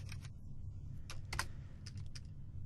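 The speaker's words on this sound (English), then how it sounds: "so I have to type this" Code is typed on a computer keyboard in a few quick bursts of close, crisp key clicks separated by short pauses, with no talking.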